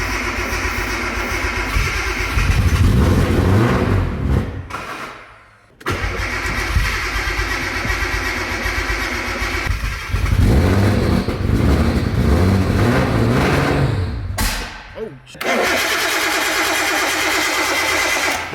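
Nissan R33 engine cranking repeatedly without starting, three long bursts of starter-motor churning separated by short pauses, loud and close with no voices.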